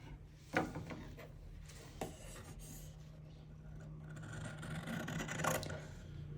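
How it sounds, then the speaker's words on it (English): Scissors cutting apart strips of fabric bias tape two inches wide, giving a few crisp snips and a soft rustle of cloth, all close and fairly quiet. "I can go ahead and cut these pieces apart now"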